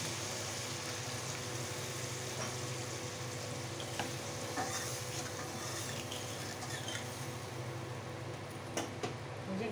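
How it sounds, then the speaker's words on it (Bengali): Water is poured into a pan of fried spice paste for a Bengali steamed egg curry with carrots, giving a faint, steady sizzle and bubbling hiss with light stirring scrapes throughout. "আমি জল দিয়ে দিচ্ছি।"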